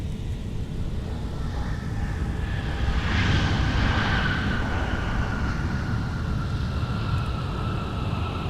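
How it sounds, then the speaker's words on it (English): A Delta airliner jet arriving at MSP airport roars steadily at a distance, its engine whine swelling to a peak and slowly sliding lower as it passes, loud broadband rumble throughout. "That was Delta 2274 that just came in from Phoenix"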